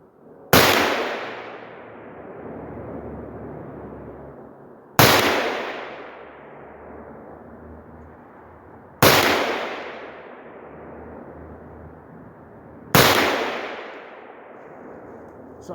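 Four loud, sharp gunshots from a Sig MCX rifle in 300 Blackout ring out at a steady pace roughly four seconds apart, each crack followed by a long fading echo across an outdoor range.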